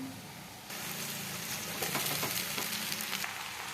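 Kande poha frying in a kadhai after salt is mixed in, a sudden burst of close sizzling that starts after a quiet moment and then crackles steadily with stirring scrapes, no talking over it.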